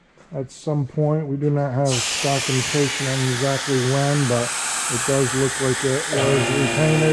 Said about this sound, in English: I do apologize for the noise on the lift